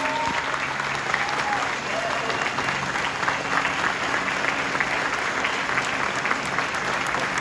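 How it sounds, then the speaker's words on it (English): Sustained audience applause and a standing ovation at a live event, a steady dense wash of clapping lasting throughout, with some crowd noise mixed in. "Standing ovation, please."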